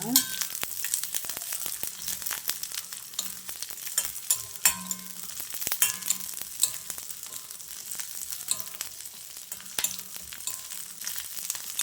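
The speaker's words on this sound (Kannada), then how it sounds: "ಬೆಳ್ಳುಳ್ಳಿ, ಹುಣಸೆ ಹಣ್ಣು, ಹಸಿಮೆಣಸಿನಕಾಯಿ ಹಾಕಿ ಸ್ವಲ್ಪ ಫ್ರೈ ಮಾಡ್ಕೊಳ್ಳೋಣ." Onion, garlic, tamarind and green chillies frying for drumstick leaf chutney, with a bright crackling sizzle and frequent sharp clicks and scrapes of stirring against the pan, close and continuous.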